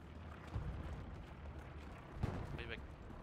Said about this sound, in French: Artillerie plus smoke.